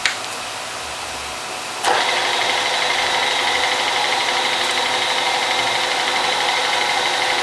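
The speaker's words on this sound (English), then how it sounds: "We're just going to go down with a spring cut right now" A Benchmaster metal lathe takes a spring cut under auto feed at medium feed rate, a steady mechanical whir and hiss that jumps a step louder after a couple of seconds and then runs evenly, close up.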